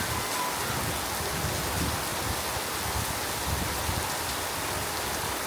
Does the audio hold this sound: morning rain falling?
yes